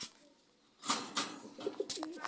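A pigeon coos in a few soft, low phrases after a quiet start, close by, with some rustling and handling noise around it.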